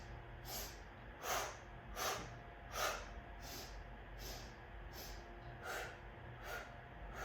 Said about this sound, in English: So it's inhale, inhale, inhale, turn your palms down, exhale, exhale